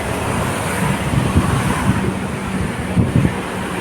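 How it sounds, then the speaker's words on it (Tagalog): Strong wind at a seaside bay promenade buffets the microphone in a steady low roar, with gusty thumps and no voices. "Ang lakas pa ng hangin."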